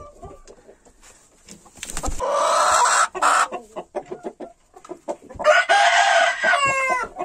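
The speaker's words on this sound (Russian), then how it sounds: "Здесь у меня 5 курочек и петушок." Five hens and a rooster in a coop: loud, close clucking and squawking comes in bursts, and the rooster crows near the end.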